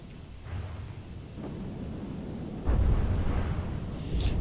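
Deep rumbling explosions from time-fused cannon shells in From the Depths boom one after another over a constant low roar, loud and heavy, with a sharper blast partway through.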